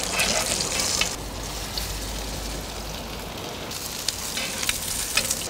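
Beef pieces frying for ossobuco, a steady loud sizzle with crackling pops throughout, slightly quieter in the middle stretch, no voices.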